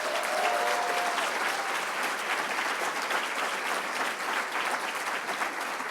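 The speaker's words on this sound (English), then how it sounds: "Please give them a round of applause." Dense, steady applause from an audience fills the room at an evening alumni celebration, a continuous wash of many hands clapping at even loudness throughout, with no voices standing out.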